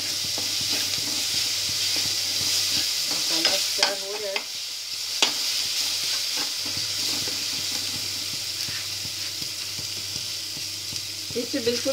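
Masala for Punjabi chole sizzles in a pan while being stirred, a steady fry hiss broken by scraping spoon strokes and a few knocks, fairly quiet and close.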